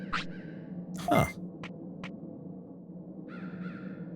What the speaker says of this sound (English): I hear a noise. It's a Birdramon.